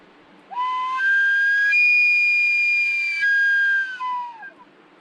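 An elk bugle imitated on a whistle by someone in a survival setting: a single sustained tone rises, holds high and bright, then slides back down before cutting off, loud and close.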